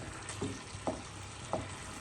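Fried chicken leg pieces being mixed in a pan, with a steady frying sizzle and a few soft scraping stirs spaced through it at moderate, close level.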